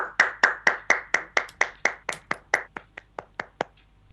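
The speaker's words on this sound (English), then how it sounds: "That was my clapping." Hands clap about seventeen times in a steady, even rhythm, each clap sharp and close, slowing and fading slightly toward the end.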